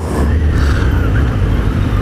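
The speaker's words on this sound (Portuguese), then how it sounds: "Escapamento original." A Kawasaki Z800 motorcycle with its original exhaust runs on the road during a commute, a loud, steady low engine rumble with wind and traffic noise throughout, no talking heard.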